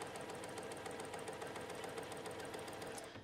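A sewing machine stitches a Friendship Blooms quilt block along a diagonal line, giving a steady, rapid mechanical whir and patter that stays quiet and even throughout, with no voices.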